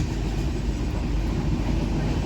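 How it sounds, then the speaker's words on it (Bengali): A dense, steady low rumble and roar of a passing express train on an Indian railway line fills the whole clip at constant loudness, with no distinct breaks. "এদিকে জার্নিতে এক্সপ্রেস ট্রেন পাস হচ্ছে"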